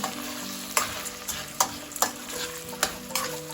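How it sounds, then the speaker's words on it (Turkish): Lentils sizzle and fry steadily in a pot for lentil soup while a spoon scrapes through them in regular strokes, each scrape landing as a short, sharp knock. "Karıştıralım şimdi güzelce hepsi malzemeler birbirine karışsın"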